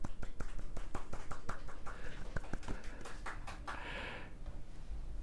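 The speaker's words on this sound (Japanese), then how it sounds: "拍手" Hands clap in a quiet room of a Kyoto machiya townhouse during a live travel broadcast, a run of sharp, fairly faint claps spread across the stretch, with a short soft hiss near the end.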